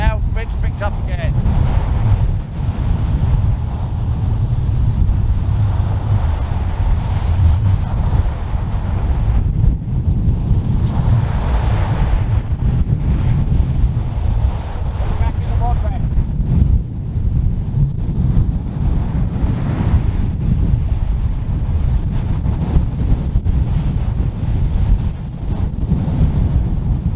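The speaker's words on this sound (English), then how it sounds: "Wind's picked up again." Strong wind blows by the sea, buffeting the microphone with a continuous loud roar and gusts, with surf washing underneath throughout the long stretch.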